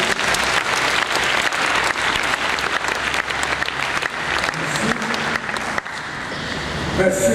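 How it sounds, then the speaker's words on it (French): A church congregation at a memorial ceremony claps hard and fast in a dense, sustained burst of applause with some cheering. It thins out near the end as voices come in. "Acclamez encore plus fort."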